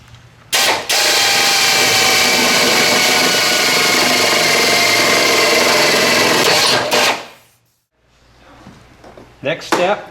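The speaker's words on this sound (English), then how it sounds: "We'll just drill a couple of holes, stick a punch in there" A power drill bores holes in a vehicle's body for rock slider installation, whining loudly and steadily for about six seconds before winding down, followed by a brief clatter.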